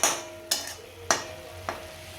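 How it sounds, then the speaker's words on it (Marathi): Cabbage bhaji cooking in a pan on the stove and being stirred: three or four short, close scraping strokes over a soft, steady sizzle, with no voices. "कोबीची भाजी शिजत आलेली आहे"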